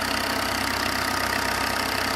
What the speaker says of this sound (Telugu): ఇది ఇంజన్